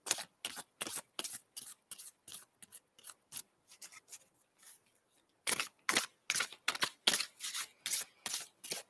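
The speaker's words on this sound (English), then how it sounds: "I'll shuffle and I'll see what we get" Playing cards riffle-shuffled in repeated quick bursts, a steady run of crisp flutters, a short pause, then a louder, denser series of riffles, close and alone.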